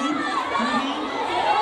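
A crowd of schoolchildren cheers and shouts at a school football match between the yellow and purple teams, a dense, steady roar of young voices throughout.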